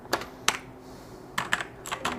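Sharp clicks from a TVS Gold mechanical keyboard come in two short bursts of two or three keystrokes with a pause between, close and fairly quiet.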